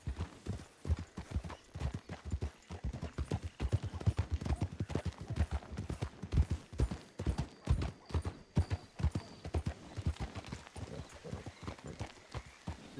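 Horses in the RedM video game clip-clop steadily on the ground with a continuous rhythmic patter of hooves, close and loud, with a faint whinny partway through and no talking.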